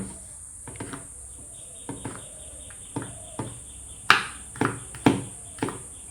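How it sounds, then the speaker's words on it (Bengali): Knife finely chopping garlic on a board, a series of sharp, separate close-up taps spaced irregularly and growing a little louder toward the end, over a steady high-pitched background hum. "এইভাবে আমি রসুনটা কেটে নেব"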